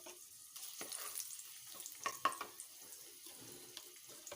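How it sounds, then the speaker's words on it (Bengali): Dried red chillies and bay leaf hitting hot oil in a pan give a soft, steady sizzle and crackle with a few sharper pops, fairly quiet and close, with no voices. "আমার তেল গরম হয়ে গেছে, এখন আমি এখানে দেব শুকনো লঙ্কা,"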